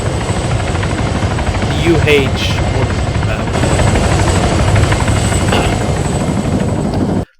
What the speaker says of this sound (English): It's the Marine Corps helicopter.